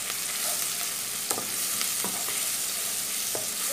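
Ginger-garlic paste sizzling briefly in a hot pan, a steady loud hiss broken by a few sharp spatula scrapes and clicks, with no one speaking.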